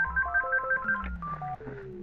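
Phone ringing in the SNES game Earthbound, a quick chiptune jingle of bright descending synth tones, loud and alone.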